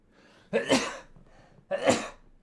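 Two sneezes in quick succession, each a sharp close burst with a breathy sharp onset, separated by a brief quiet pause.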